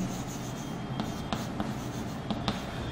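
Chalk or marker writing on a board produces soft scratchy strokes and a few sharp taps spaced unevenly, close by in a quiet room.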